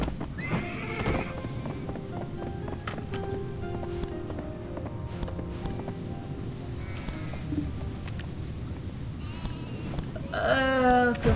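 Donkey hooves clopping steadily in the video game Black Desert Online, an even walking rhythm up close, with brays and bleats from animals breaking in near the end.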